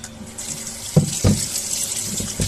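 Fish rinsed under a running kitchen tap after scaling, steady close hiss of flowing water into a sink with a few irregular splashes and knocks as it is handled.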